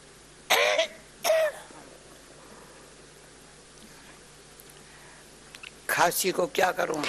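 Two short, sharp coughs sound close by, followed after a quiet pause by a burst of throaty coughing and throat clearing.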